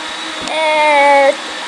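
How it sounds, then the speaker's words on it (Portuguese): A motor whirs at a steady pitch and rises briefly in strength before cutting back, a loud close whine like a blender running. "desculpa esse barulho aí do liquidificador"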